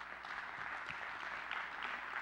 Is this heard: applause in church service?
yes